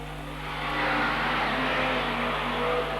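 Saloon and Mini race car engines drone and rise as they pass close on a track at Wangaratta, Victoria, a steady mechanical roar with a low hum beneath.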